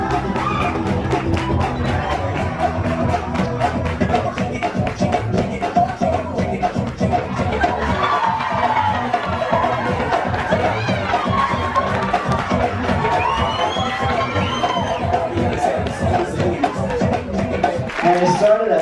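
Crowd cheering and children shouting fill a cruise ship show as a performer is introduced, the noisy audience staying loud and continuous throughout, with music and voices mixed into the din.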